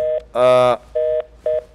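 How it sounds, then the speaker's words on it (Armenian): After a dropped phone call, a telephone line gives a few short electronic tone beeps in a clipped on-off pattern, loud and close. "կներեք անջատվեց նորից զանգարեք, որ կարողանամ վերցնեմ"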